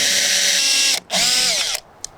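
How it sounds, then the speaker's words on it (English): A power drill whines loudly while pre-drilling a pilot hole through metal flashing on an RV skylight. There are two close, steady bursts with a brief stop between them, followed by a short click. "pre-drill our pilot hole here"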